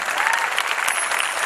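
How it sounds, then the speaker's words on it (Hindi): Audience at a Shrimad Bhagwat Katha religious discourse bursts into loud, sustained applause, a dense steady wash of clapping filling the whole short moment without any talk. "एक बार जोरदार ताली होनी चाहिए।"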